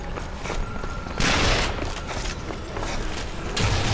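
Gunfire in the zombie shooter Zombie Army Trilogy comes as a close, loud volley of shots, with bursts swelling and falling over a few seconds and no clear talk above them.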